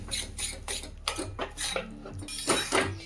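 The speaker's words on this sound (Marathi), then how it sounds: "आता हे तीळ त्याच्यात टाकून घ्यायचे आणि हे सगळं असं मिक्स करून घ्यायचं आहे." Sesame seeds stirred into hot sugar syrup for til papdi, a steady run of close scraping and clinking strokes of a spoon against a pan in a rhythmic stirring pattern, moderately loud, with no speech.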